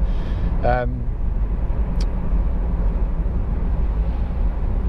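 Constant road and engine drone fills the cabin of a Honda CR-Z 1.5 IMA hybrid GT at upper motorway speed, a steady low rumble with wind hiss, under a brief spoken word near the start.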